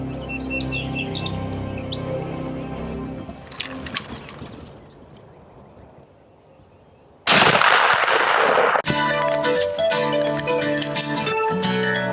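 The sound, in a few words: gunshot during a turkey hunt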